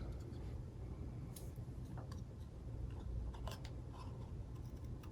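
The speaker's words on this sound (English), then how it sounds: "I am just going to take my scissors and cut these two flowers apart." Scissors snipping apart two die-cut glitter paper flowers at a craft table, a few faint, sparse snips and ticks scattered over quiet room noise.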